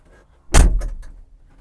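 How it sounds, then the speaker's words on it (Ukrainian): The cab door of an Iseki TG-333 Japanese mini tractor swings shut with a single solid thud and a brief rattle, close by, after a moment of near silence. "Закриваємо дверцята."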